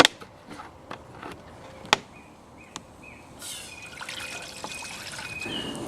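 Water poured into an already very hot cooking pot over a wild campfire, with a few sharp clicks and knocks early, then a steady trickling, hissing pour building up over the last couple of seconds.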